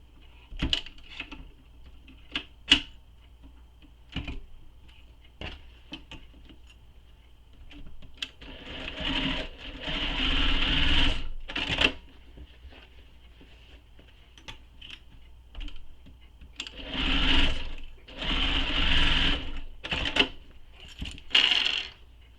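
A sewing machine stitches a leather satchel along a dotted line, running in several bursts of rapid stitching between quiet pauses, with scattered small clicks and handling noises close by.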